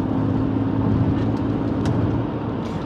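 A 20-year-old BMW car with a straight-six engine runs steadily with a low, even hum and faint rumble, a moderate idle-like drone with no voices.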